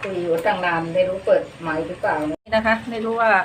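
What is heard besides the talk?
No everyday noises stand out.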